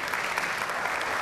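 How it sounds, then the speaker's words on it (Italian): Applause for a professor at an Italian medical award ceremony, a brief steady patter of clapping hands from the audience, moderately loud throughout. "facciamo un bel applauso"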